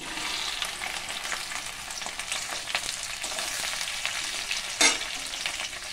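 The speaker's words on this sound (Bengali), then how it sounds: "আগে ঢ্যাঁড়সটাকে ভেজে নিতে হবে।" Okra (ladies finger) fries in oil in a wok, a continuous near crackling sizzle with light stirring scrapes and one louder clatter near the end, with no talking.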